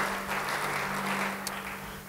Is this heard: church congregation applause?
yes